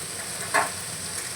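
A tomato mixture with salt fries in a pan with a soft, steady sizzle, and one brief scrape of stirring stands out near the middle. The sound is faint and close, with no voices.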